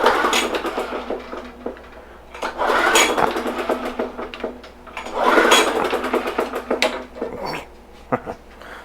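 The pull-start cord of a Bolens lawn mower is yanked several times, and the engine cranks over in rhythmic bursts with mechanical clatter but never catches. Each pull sounds close and fairly loud.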